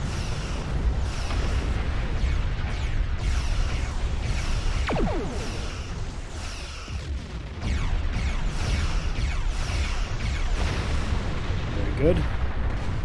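Starship weapons firing in the space video game Star Trek Online, a continuous barrage of booming energy blasts and rumbling impacts over a dense low roar, loud throughout, with a voice speaking over it.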